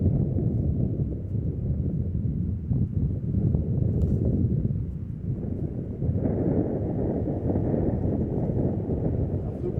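Steady gusty wind roars across an outdoor disc golf field, a loud continuous low rumble buffeting the microphone for the whole stretch, with no clear voices over it.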